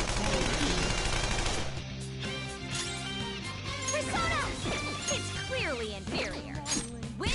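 Rapid bursts of gunfire in the video game Persona 5 Royal, loud repeated shots with crashing impacts and game music underneath, while a voice talks over the action.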